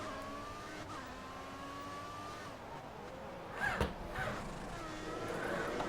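An F1 car drives through the pit lane at the Singapore Grand Prix in the video game F1 2014. Its engine holds a steady, moderate whine with shifting pitch and a brief louder surge midway.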